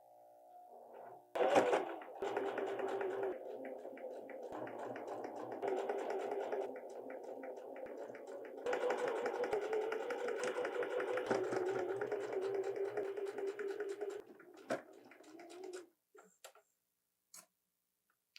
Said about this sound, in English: we'll go to the sewing machine and sew this together.